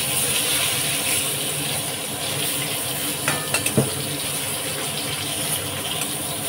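Eggplant (brinjal) slices sizzle in a pan of hot oil, a steady close crackling hiss with a few sharp clinks of a utensil against the pan midway; no talking.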